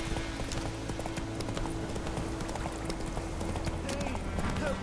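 Hooves of Roach, a horse in The Witcher 3, clip-clopping in a quick steady rhythm of close, crisp thuds, with a low hum underneath and faint talk.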